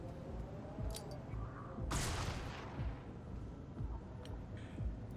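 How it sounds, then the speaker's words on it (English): A flashbang grenade detonates in the Xenonauts 2 strategy game, one sharp, bright burst near the middle that rings out over a low, rumbling game soundscape, with a few fainter distant cracks around it. "Flashbang out."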